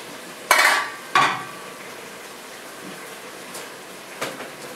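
Stuffed fish stew starting to cook in a pot, with two sharp bursts of sizzling and stirring followed by a low simmer and a few soft clinks of utensils.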